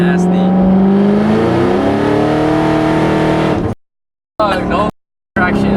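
A Ford Mustang accelerates at half throttle, its engine rising in a loud, near, steady revving climb for several seconds before abrupt cuts, with people talking around it.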